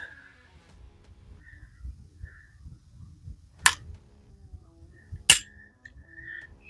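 A Canik Mete SFT pistol trigger gives two sharp, crisp clicks a couple of seconds apart, close and distinct against quiet handling noise.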